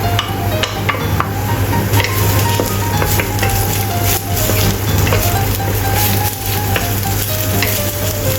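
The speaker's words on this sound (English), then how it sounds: "Stir-fry chopped ginger until release flavor." Chopped ginger stir-frying in hot oil gives a loud, steady sizzle, close up, with scraping clicks of the spatula stirring throughout and no voices.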